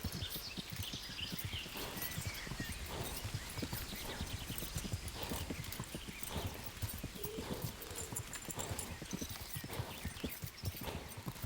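Steady, rapid hoofbeats of a galloping horse in the video game Kingdom Come: Deliverance, loud and continuous throughout, with a busy game-like mix of background noise.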